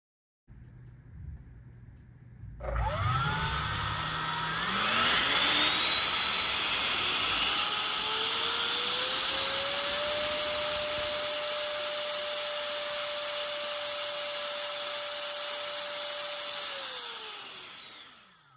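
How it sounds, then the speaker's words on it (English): An FMS 64mm electric ducted fan on a 4-cell battery starts up, whines rising in pitch to a steady, loud high-pitched roar for about fifteen seconds, then spools down at the end. "We used an FMS 64mm EDF that runs on 4-cell batteries, 30C discharge rate"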